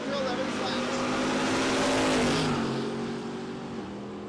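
Drag racing at Texas Motorplex: a third-generation Camaro and a 2016 Silverado roar down the strip, loud engine noise swelling and then fading as they pass, with an announcer talking over it.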